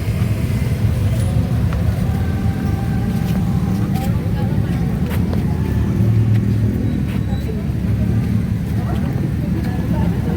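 Steady low rumble of congested road traffic in Metro city at night, idling and creeping cars blending into a continuous dense drone, with people talking nearby on foot.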